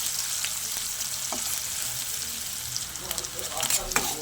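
Chopped green chili and onion fry in a pan in a steady, close sizzle, with a few stirring clicks and a brief louder burst near the end.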